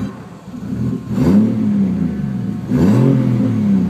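Datsun Z fitted with an RB30 engine, a transmission input shaft bearing noise heard as a whirring drone under the engine, rising in two revving swells close by.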